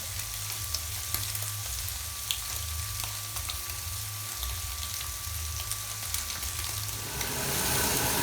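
A T-bone steak frying in a pan, a steady close sizzle with faint crackles and a low hum underneath, growing slightly louder at the end.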